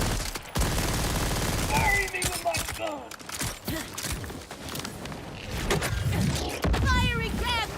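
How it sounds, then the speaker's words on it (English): A fiery gas cannon fires in a video game, a dense burst of rapid blasts and crackling bursts repeating across the span, loud and close, with game effects layered in and a voice talking over parts of it. "Fiery gas cannon!"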